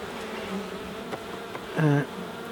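Honey bees buzz around an opened beehive, a low steady hum with one loud close pass as a bee drones near for a moment before fading back into the swarm.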